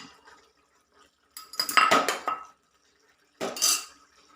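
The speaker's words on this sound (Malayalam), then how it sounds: "ഇനി ഇതിലേക്ക് വെണ്ടയ്ക്കയില്ലേ വറുത്ത് വെച്ചിട്ടുള്ള വെണ്ടയ്ക്കയും കൂടെ ഇതിലോട്ട് ഇട്ട് കൊടുക്കാം." Fried okra is tipped into a pan of okra curry, giving two short bursts of metal spoon clatter and scraping against the pan, close and fairly loud, with quiet gaps and no voices.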